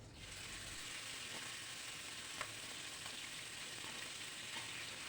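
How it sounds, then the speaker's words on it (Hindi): Finely chopped onion tipped into hot oil with cumin seeds, giving a soft, steady sizzle and crackle with a few faint clicks of stirring, low and continuous with no voices. "अब एक प्याज जो हमने बहुत बारीक काट के उसको हम डाल देंगे।"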